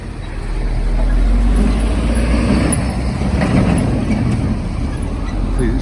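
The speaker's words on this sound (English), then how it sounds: "Please excuse the passing lorry noise." A lorry passes close by outdoors, its low diesel rumble swelling after the first second and holding as a steady drone before easing slightly.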